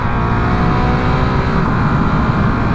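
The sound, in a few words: 2019 Honda CRF450L motorcycle engine during test ride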